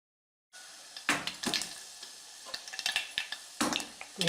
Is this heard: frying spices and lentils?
yes